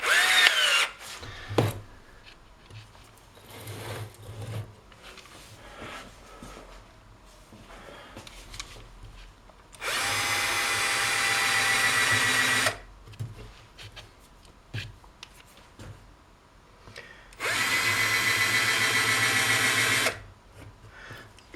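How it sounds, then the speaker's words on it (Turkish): A power drill fitted with a thick bit whines in two sustained bursts of a few seconds each, loud and close, separated by quieter handling clatter. "Kalın bir matkap ucu alıyoruz."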